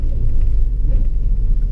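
Car engine pulling steadily after a change into second gear during a driving lesson, a continuous low interior rumble, close and fairly loud with no talking.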